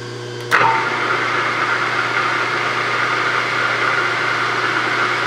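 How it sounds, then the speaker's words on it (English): A milling machine running at 660 RPM cuts the opposite side of a steel dolly part flat, starting with a sharp onset and then holding a steady, close machining drone with a low hum underneath. "Now we're gonna mill it flat on the opposite side."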